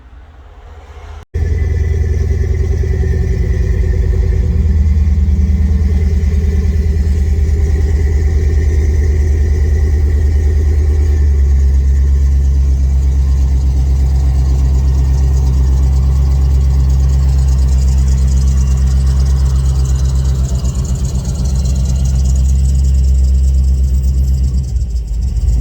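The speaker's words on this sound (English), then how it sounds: "I better get out the old brick nose dually." An old brick nose dually pickup truck idles steadily close by in the snow, a deep continuous low rumble with a faint mechanical hum above it, holding even for the whole span after it turns over and settles.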